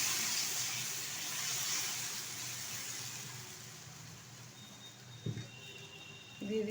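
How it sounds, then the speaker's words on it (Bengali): Boiled lentils, cooked with turmeric, are poured into a pot of hog plum dal: a steady wet rushing pour for several seconds that slowly fades, followed by a couple of soft knocks. "এখন দিয়ে দিচ্ছি সিদ্ধ করে রাখা ডাল।"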